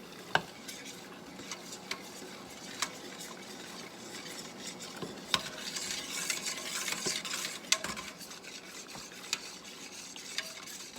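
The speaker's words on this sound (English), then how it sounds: "That gives it time to come back up to a boil, because you want a hard boil." Redbud jelly mixture at a hard boil in a pot bubbles with a steady, soft seething, broken by occasional sharp taps and scrapes of a stirring utensil against the pot.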